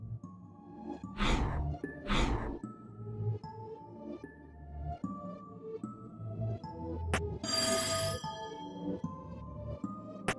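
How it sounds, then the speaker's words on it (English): A teletrophone bell rings in the video game There Is No Game, with several bright ringing strikes and a harsh buzzing burst over a low game music bed. "What was that sound like a ringing bell? I think it came from this odd device."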